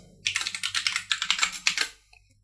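A username is typed on a computer keyboard during an ArcGIS Online login, a quick, close, crisp run of about fifteen key clicks lasting under two seconds, with no talk.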